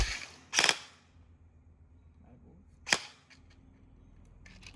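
Two sharp airsoft gun shots about two seconds apart, crisp snapping cracks with a short mechanical tail, fired close by with quiet background between.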